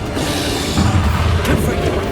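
A loud, booming Bombarda spell explosion in Hogwarts Legacy, a dense rumbling blast filling the short moment at close range, with a voice shouting over it.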